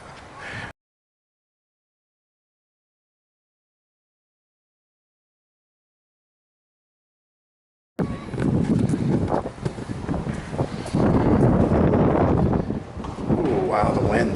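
Strong wind blowing outdoors near a tall structure with an elevator, roaring loudly into the microphone in steady gusts after a long silence, with a brief noise at the very start.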